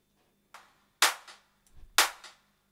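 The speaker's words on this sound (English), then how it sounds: "Maybe use that clap." Clap percussion sample played in Bitwig: a soft hit and then two loud, crisp claps about a second apart, each with a short trailing tail, dry and close with nothing else around them.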